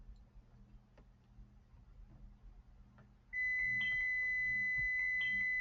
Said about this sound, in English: my timer was going off